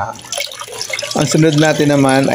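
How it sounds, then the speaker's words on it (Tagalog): Water is poured into sautéed pork while cooking canton bihon pancit, a wet splashing and trickling pour under a voice that talks over the second half. "lagyan natin ng tubig na naayon sa dami na kailangan natin para sa ating pansit"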